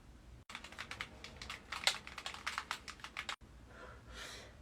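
Quick clusters of button presses and key clicks tap out close and fairly quiet, in irregular bursts with brief pauses between them.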